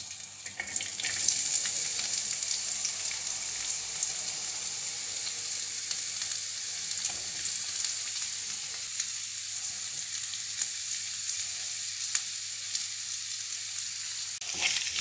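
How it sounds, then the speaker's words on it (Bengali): Onions fry in a little oil in a pot, giving a steady bright sizzle that runs on at moderate level with faint scrapes of stirring, close by and with no voices. "আমি পেঁয়াজগুলি নেড়ে চেড়ে ভেজে নেব একটু"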